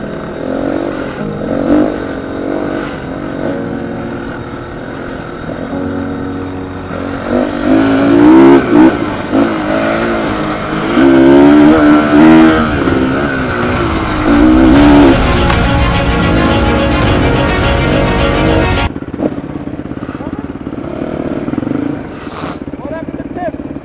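A GTX FSE250R dirt bike on its first off-road outing, engine revving and rising in pitch in repeated bursts, loud and close, with people talking over it and a fueling fault being discussed.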